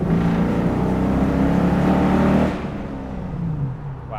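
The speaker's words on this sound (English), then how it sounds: "We'll give it a little throttle blip and see how this thing sounds in the tunnel." Hemi-swapped 1971 Dodge Challenger giving a loud throttle blip inside a tunnel, a dense V8 roar that swells for a couple of seconds then drops back to a lower idle rumble with booming echo.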